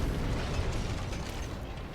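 Heavy combat helicopter exploding in the video game Armored Core 6: a dense, loud, sustained rumbling blast of noise with crackling debris, continuous through the short stretch with no talk.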